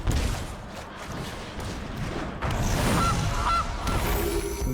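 A digital Goose card in Magic: The Gathering Arena sounds off with a couple of small honks under a steady wash of game noise, with no talking.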